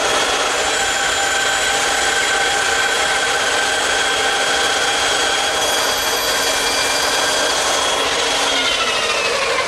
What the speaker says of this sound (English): I'll remove the material at the bandsaw.